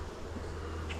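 Honey bees buzz around an opened Flow Hive and traditional Langstroth hive during inspection, a soft continuous low hum with a steady drone and no voices.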